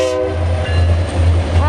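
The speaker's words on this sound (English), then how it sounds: "2620 lead locomotive." A BNSF GP39-3 lead locomotive rolls past in the Spokane Valley, Washington, a loud close rumble of the train with a horn blast sounding over it in a short burst.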